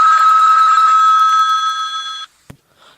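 An old-fashioned telephone bell rings loud and close in a steady trilling burst for about two seconds, then cuts off, followed by a brief click and faint rustle.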